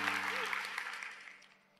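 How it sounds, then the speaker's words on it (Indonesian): A church congregation gives brief applause for God, a wash of clapping with faint voices underneath that fades out quickly over under two seconds. "berikan tepuk tangan untuk Tuhan"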